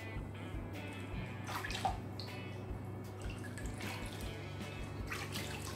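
Tap water runs and splashes while facial cleanser is rinsed off the face, a close, continuous trickle with irregular drips and splashes, no talking over it.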